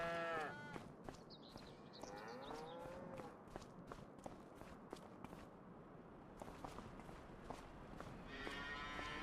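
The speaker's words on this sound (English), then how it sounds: "Gonna load up the beef cows and sell them." Beef cows being loaded in the Farming Simulator 25 video game: faint hooves clopping and shuffling in an uneven rhythm, with scattered lowing from the livestock and a few higher calls early on, all quiet and at some distance.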